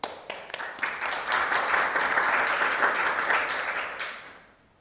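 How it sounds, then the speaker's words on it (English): Audience applause at an academic conference session as a speaker comes up to present, a dense burst of many hands clapping that swells quickly, holds steady, then fades out over about five seconds. "A round of applause for Joseph, please."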